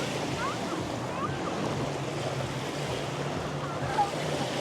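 Waves wash in on Batu Feringgi beach, a continuous low rushing surf with some wind, steady and moderately loud, with a few faint high sounds in the background.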